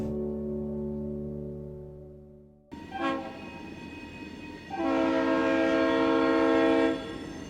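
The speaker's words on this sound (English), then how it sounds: "we see KCS rebuilt SD45 number 3162 and CP SD40-2 number 6024 performing some switching moves around the DeQuincy Watt" KCS rebuilt SD45 No. 3162 and CP SD40-2 No. 6024 switching around DeQuincy, Louisiana: a steady diesel drone fades out, then a sharp horn blast sounds, followed by a second, longer horn chord over rumbling locomotive engines.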